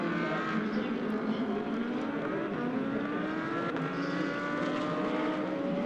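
A Brabham GT2 race car engine at the Paul Ricard circuit roars continuously at high revs, its pitch sliding upward as it accelerates, loud and close with no voices.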